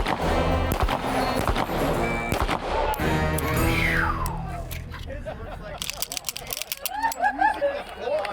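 Colt 1911 pistol fired at an indoor shooting range: sharp, loud reports in the first few seconds under steady voices, followed by talking.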